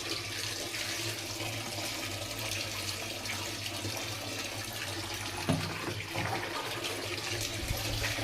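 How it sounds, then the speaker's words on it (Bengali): Tap water runs steadily while a greasy gas stove is rinsed clean, a continuous splashing wash at close range with a brief clatter midway. "এবার গ্যাসটা ধুয়ে নিই"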